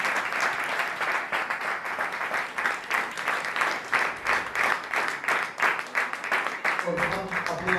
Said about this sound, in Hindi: सो अब हम खुदा के कलाम के लिए, खुदा के खादम के लिए जोरदार ताली बजाएंगे।